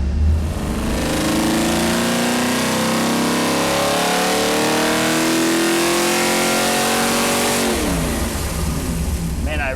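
A 454 big block V8 in a Monte Carlo revs loudly on a dyno pull, holding a sustained rising roar for several seconds before backing off near the end.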